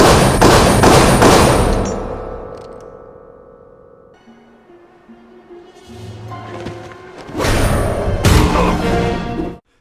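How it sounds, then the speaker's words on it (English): Heavy shield strikes from Captain America in a 2011 superhero film: dense, punchy thuds and crashes in a loud burst at the start, a quieter stretch of scattered impacts and tones, then another loud burst of hits near the end. "I loved it when the shield's hitting people and."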